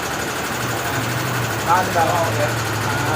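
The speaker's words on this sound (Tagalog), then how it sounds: "Kung maririnig nyo, yung ingay ng motor," A Yamaha Mio Soul 125 scooter engine runs noisily at a steady idle, a constant low drone with a rattling mechanical edge, close by, while someone talks over it briefly.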